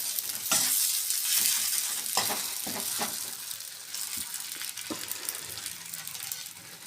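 Food fries in a pan with a bright continuous sizzle, and repeated scraping stirs at irregular intervals ring close and clear.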